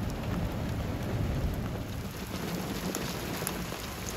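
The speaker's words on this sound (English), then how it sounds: "And here comes the rain." Steady, dense rain pours down outdoors beside a rail line on Long Island during a storm, a loud continuous hiss with no talking.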